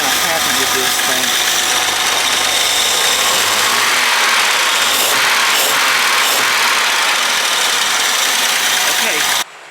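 An old engine, likely the Jaguar's, runs at idle after a timing adjustment, a loud steady rumble close by with a faint uneven knock, the idle shifting slightly midway before cutting off abruptly at the end.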